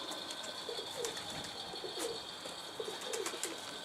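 Pigeons at a market cooing softly in short, repeated low calls, layered over a steady outdoor background hiss with no talking.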